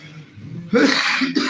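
A sudden burst of harsh coughing breaks out after a quiet moment, two rough coughs close together, near and fairly loud.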